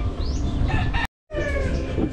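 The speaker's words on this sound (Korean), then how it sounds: "아, 왜 이렇게 우는지 모르겠네 닭들이." Several roosters crow loudly and close by, overlapping calls with clucking from other chickens, heard on a rainy day in Moalboal, Cebu; the sound cuts out for a brief moment midway.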